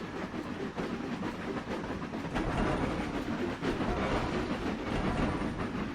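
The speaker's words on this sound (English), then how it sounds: "Another train will come into the station." Train pulling into a station in the Trainz Railroad Simulator game, a low rumbling roll with faint rail clatter and hiss, steady and moderately quiet, no voices.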